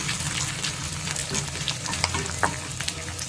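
Garlic cloves frying in a pan for a chutney, a steady close sizzle with scattered crackles and light pops, no talking.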